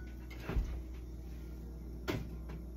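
A fridge door opens with a soft thud and shuts again about a second and a half later with another muffled bump, close by over a low steady hum, no talking.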